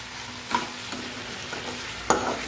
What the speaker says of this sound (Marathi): थोडंसं बटर टाकून घेतलं आपण त्याच्यामध्ये आणि सर्व मिक्स करून घेऊया।